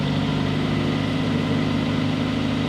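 A car engine idles after flood repair, a steady low hum with an even mechanical pulse running unbroken and fairly close.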